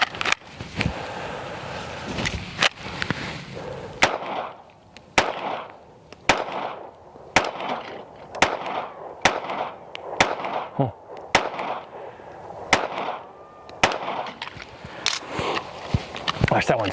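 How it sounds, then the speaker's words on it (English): A Springfield Armory Hellcat Pro Comp OSP pistol fires hollow-point rounds outdoors: about a dozen loud, sharp shots at a steady pace of roughly one per second, with some noise between them. "I'm going to shoot at least 20 rounds through each of them to see how they do with the hollow point."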